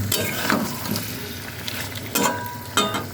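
Spice masala for a Bengali potato curry (aloo dum) sizzling and frying steadily in a pan, with a continuous close crackle and a few louder stirring scrapes, no talking.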